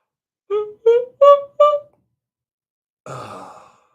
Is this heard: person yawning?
yes